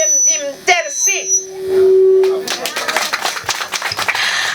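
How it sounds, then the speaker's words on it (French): Brief singing and a sustained tone give way to a burst of audience applause at a family event, crisp scattered claps building and continuing to the end. "Applaudissez encore une fois, mesdames et messieurs."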